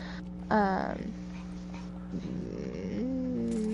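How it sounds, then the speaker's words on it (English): A dog in the Gotham Knights video game lets out a short, sharp yelp followed by whimpering and yipping as it chases a cat, close and fairly loud over a steady background hum. "Was that the sound of a fun dog?"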